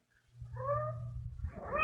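A cat gives a single drawn-out meow, close and clear, rising in pitch, over a low steady background hum, with the start of a second call at the end.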